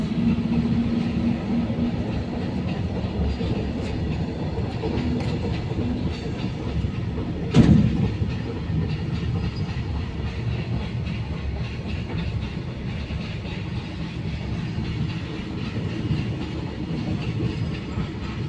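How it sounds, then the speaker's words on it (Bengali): A freight train rolling past a railway level crossing, steady close rumble with rhythmic clickety-clack of wagons over the rails and one sharp clank partway through, no talking. "ট্রেন যাচ্ছে এখন"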